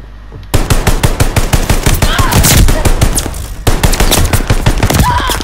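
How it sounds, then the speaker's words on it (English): BAR rifle gunfire in a shooter video game rattles out in rapid, loud bursts of closely spaced shots, pausing briefly and then resuming, with a few other shots and faint game sounds between bursts. "I'm not used to this gun"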